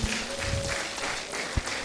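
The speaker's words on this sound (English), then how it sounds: "Please, can we give him a round of applause?" An audience at a university World Environment Day event breaks into a short burst of steady clapping, moderately loud and without speech.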